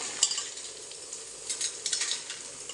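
Flattened rice snack mixture with roasted gram dal being dry-roasted in a pan without oil, a soft crackly sizzle with light scraping stirs and small clinks, close and fairly quiet, no voices.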